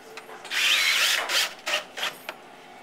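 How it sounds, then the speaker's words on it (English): Power drill driving screws to fasten a board down onto a CNC router bed, a loud whirring burst followed by several shorter stop-start pulses as each screw seats. "screw the board down"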